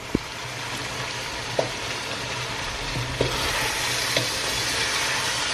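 Shepherd's pie filling sizzling in a frying pan with a steady bubbling hiss, punctuated by four brief spoon knocks as it is stirred. No one speaks.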